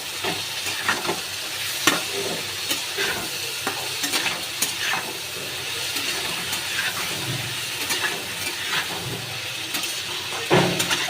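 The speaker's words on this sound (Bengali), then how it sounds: "এবার আমি আলু আর পটল, কাঁচা লঙ্কাটা একসাথে দিয়ে দেবো, দিয়ে হালকা একটু ভেজে নেব" Cubed potatoes, pointed gourd and green chilli frying in oil in a pan, a steady close sizzle with frequent scraping and stirring clicks throughout.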